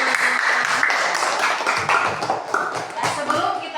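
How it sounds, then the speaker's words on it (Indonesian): Classroom clapping from students in a lesson, a brisk scattered patter of hands lasting several seconds, moderately loud with a few voices mixed in. "Tepuk tangan."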